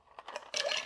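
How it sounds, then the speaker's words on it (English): Ice cubes dropped into a mixing glass while building a Manhattan with bitters, a few sharp clinks followed by a denser rattle of cubes settling, close and fairly quiet with no talk. "We're going to add some ice"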